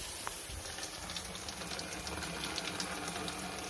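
Water from a bathroom sink runs into the overflow holes, a faint, steady wash of flowing water that continues evenly with no voices.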